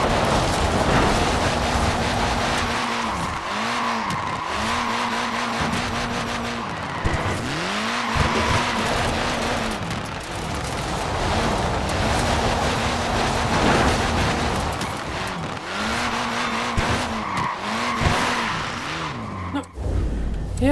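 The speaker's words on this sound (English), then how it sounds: "Look at that, laying down some rubber there." A small-wheeled car in Forza Horizon 4 skids with sustained, wavering tyre squeals that rise and fall repeatedly over a steady engine drone, loud and close throughout.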